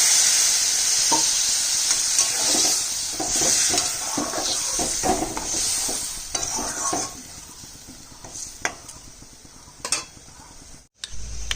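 Water poured into a hot frying pan of soybean curry cooked without onion or garlic, giving a steady loud sizzle with stirring and scraping clinks throughout, then a brief cutoff near the end.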